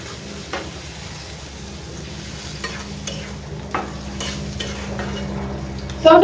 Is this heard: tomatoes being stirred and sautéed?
yes